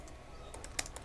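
Computer keyboard typing a SQL delete query, a handful of quick, light key clicks close by with one sharper keystroke, in a quiet room.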